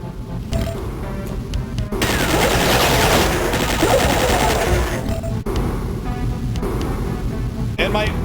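Shotgun blasts and gunfire from the video game Duke Nukem 64 in the RedNukem PC port, a dense, loud burst of repeated shots with crashing impacts, backed by game music and effects.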